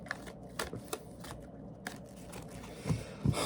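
Tarot cards are shuffled by hand in a series of quick riffling snaps and soft slides, close up, ending with a couple of heavier thumps.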